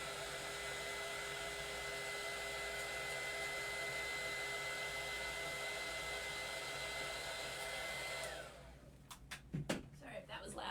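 A heat gun blows steadily and loudly while drying a decorated tumbler, then cuts off, leaving a few light knocks and handling sounds.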